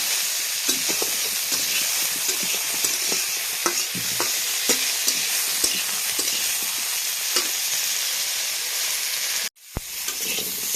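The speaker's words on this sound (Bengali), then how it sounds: "মাছের তেলে কপিগুলো আগে ভেজে নেব।" Cauliflower pieces fry in oil left from frying fish in a home kitchen, giving a continuous loud sizzle with regular scraping stirs and clicks. The sound cuts out briefly near the end, then resumes.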